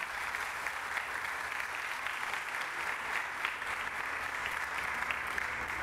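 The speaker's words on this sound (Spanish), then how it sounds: "quiero pedir un fuerte aplauso para el alcalde" An audience applauds the mayor at a Teletón charity aid handover, a steady, dense wash of many hands clapping that stays even and sustained throughout.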